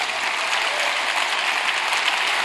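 A church congregation applauds loudly and steadily, a dense wash of clapping from many hands filling the room without pause.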